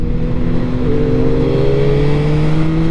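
A stock 2022 Yamaha MT-09 SP motorcycle engine revving and pulling under way, a steady loud drone with rising tones over strong wind roar, heard from the rider's position for three seconds without talk.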